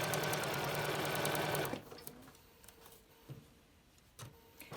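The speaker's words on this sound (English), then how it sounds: "So I'm going to just start sewing." A domestic sewing machine stitching fabric for a reusable snack bag runs loud and steady for under two seconds, then stops, leaving a quiet room with a few soft handling knocks.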